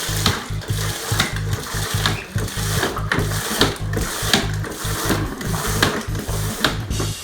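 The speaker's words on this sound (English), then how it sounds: "And then I'm just going to pump it out." A drywall flat box pump being worked to push out wash water, giving a steady run of rhythmic mechanical clacks and ratcheting strokes, close and fairly loud, with no talk.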